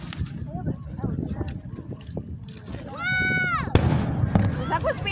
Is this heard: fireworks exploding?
yes